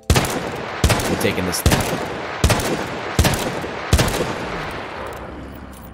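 Six sharp, loud revolver shots from the Peacekeeper Colt Single Action Army in a modded shooter game, fired at a steady pace about a second apart, each with a short ringing tail, while a voice speaks briefly.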